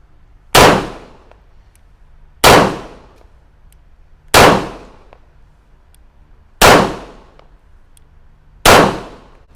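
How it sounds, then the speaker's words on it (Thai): Tisas Zig14 9 mm full-size pistol firing five loud, sharp shots at an outdoor target, evenly spaced about two seconds apart, each with a short ringing decay. "เดี๋ยวลองยิงเป้าซ้ายดูนะครับ สัก 5 นัดก่อน"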